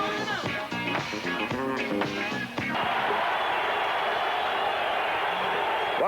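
A baseball stadium crowd rises to its feet at a Pirates versus Reds game in 1979, a broad steady roar that swells and holds loud, with earlier clattering tones and an announcer's voice before it.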